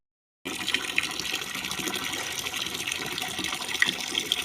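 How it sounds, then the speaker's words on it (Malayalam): Running water from a tap pours steadily at close range while someone washes, starting abruptly after a brief silence and continuing as an even, splashing gush with no talking. "ഞാനിവിടെ കഴുകുവാണ്."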